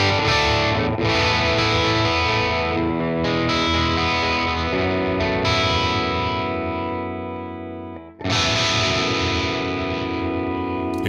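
Electric guitar run through an STL Tonality amp plugin with a bright cabinet, playing loud, distorted sustained chords with chorus and echo shimmer, a brief dip and pause near the end before a fresh strum rings out.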